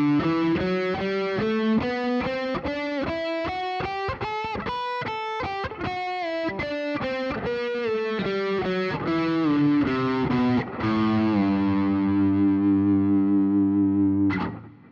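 Distorted electric guitar plays a continuous pre-bend scale drill, bent notes stepping up and back down in a steady run before settling on a held chord that rings out, then a brief final pick hit, loud and alone.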